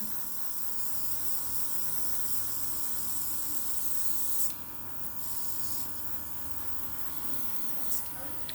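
Nail airbrush machine spraying paint over a fingernail, a steady close hiss over a continuous electric compressor hum that runs through the whole stretch, with brief dips in the spray partway through.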